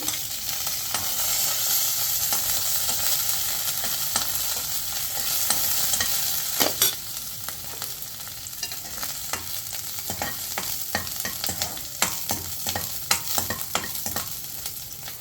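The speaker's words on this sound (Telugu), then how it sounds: "వెల్లుల్లి కొంచెం వేగిన తర్వాత పచ్చిమిర్చిని వేసుకోవాలి." Garlic and green chillies fry in a pan for an ivy gourd (dondakaya) chutney, giving a steady close sizzle throughout, with sharper spatula scrapes and clicks growing more frequent in the second half.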